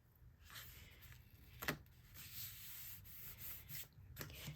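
A sand eraser scrubs across a paper craft card in short, quiet rubbing strokes, faint and close, with a few slightly firmer scrapes and no talking.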